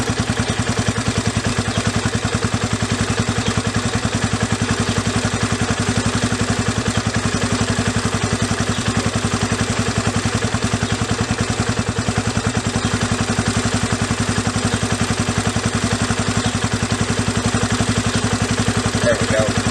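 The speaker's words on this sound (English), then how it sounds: "You heard the idle come up just a little bit then." A Raptor ATV engine idles steadily and close up as its carburetor idle mixture screw is turned, the low pulsing rhythm unbroken throughout with a slight rise in idle speed.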